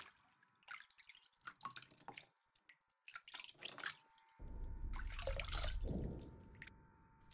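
Water dripping and splashing in a toilet in a video game, scattered close drips and trickles, then a fuller steady pour of running water that swells and fades, no voices.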